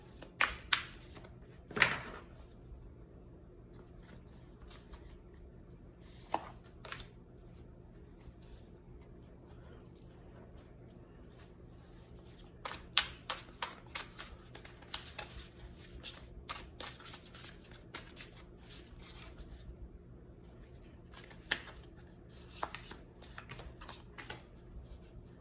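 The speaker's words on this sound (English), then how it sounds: "then we're going to draw some regular tarot cards to see" Quiet, close shuffling of a tarot deck for a pick-a-card reading, with soft scattered riffles and card flicks at irregular intervals over a hushed room, a few sharper snaps standing out.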